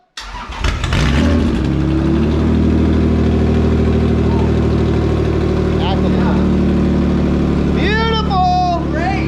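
A Toyota MR2 Spyder with a swapped 1MZ V6 engine cranks and fires up, then settles into a loud, steady idle with a throaty exhaust rumble, while people talk and cheer close by.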